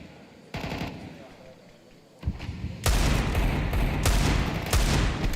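Counter-Strike gunfire at a Major esports tournament: quiet opening, then rapid bursts of automatic rifle fire swelling into loud, sustained shooting through the second half of the round.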